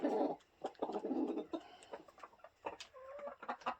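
Chickens clucking inside a chicken pen, close and fairly soft, with overlapping short calls and a few higher squawks in an irregular, busy rhythm.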